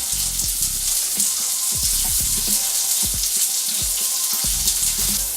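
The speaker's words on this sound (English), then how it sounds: "Now as the asparagus starts to sear" Asparagus sears in a hot pan with a steady, close sizzle and crackle that runs throughout, broken by a few low knocks and clatters of cooking.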